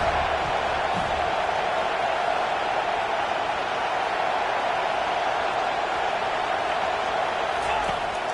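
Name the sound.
football stadium crowd cheering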